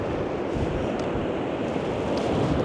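Sea surf on a Northumberland beach roars steadily during cod match fishing, a loud, broad, continuous wash of breaking waves mixed with wind buffeting the microphone, with no talking.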